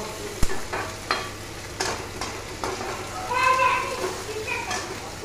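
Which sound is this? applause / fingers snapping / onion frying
onion frying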